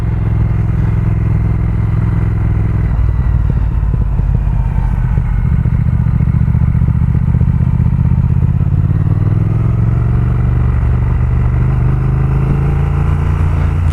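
A Triumph Speed Twin's twin-cylinder engine rumbles steadily while being ridden, a loud, low throbbing that rises and falls in pitch with gear and throttle changes over constant road and wind noise.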